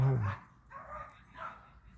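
A dog gives one short bark up close at the start, followed by quieter, softer sounds.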